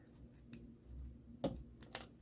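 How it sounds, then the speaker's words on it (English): Scissors snip off the long ends of a zipper in a sewing project, a few quiet, crisp cuts spaced irregularly against a faint, near-silent background. "I'm going to clip or cut off these long zipper"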